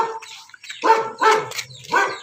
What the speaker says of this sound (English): So I hope you can hear me over the barking dog.